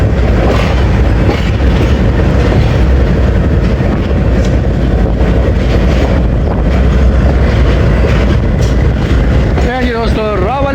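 Subak Kharam railcar train running on the tracks after leaving Rawalpindi railway station, a loud, continuous rumble with wind rush and rhythmic clickety-clack, heard close from onboard, with someone talking over it.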